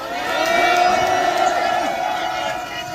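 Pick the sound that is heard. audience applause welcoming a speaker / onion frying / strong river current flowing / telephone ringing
audience applause welcoming a speaker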